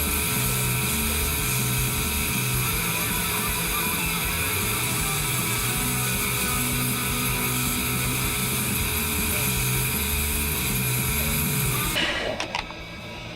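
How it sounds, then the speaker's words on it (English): A disc grinder shapes a 52100 steel karambit blade with a steady, loud, continuous whirring hum for about twelve seconds, then winds down abruptly near the end. "And then the rest we can do on the disc grinder."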